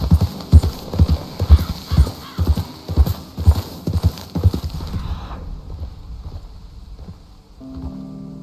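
Horse hooves galloping in Red Dead Redemption 2, a steady rapid clip-clop near and loud for about five seconds, then slowing and fading to quiet with a brief whinny-like tone at the end.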